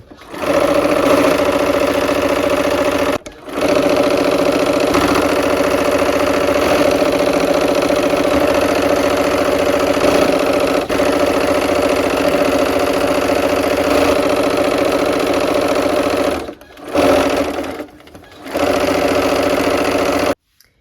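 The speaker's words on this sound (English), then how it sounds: "Let's go sew. The last seams to put all these in rows." A sewing machine stitches quilt seams joining blocks into rows, a loud steady mechanical whir running in long bursts with short pauses between seams.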